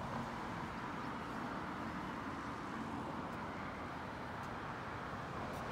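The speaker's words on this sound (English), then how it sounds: "You do hear the traffic from up here," Distant road traffic carries up to a hilltop at 114 Buena Vista as a steady, even broadband rumble that neither swells nor fades, with no voices over it.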